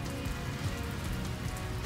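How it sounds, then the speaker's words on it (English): Steady rain falling, a dense even hiss of drops filling the short stretch with no breaks or voices. "rain,"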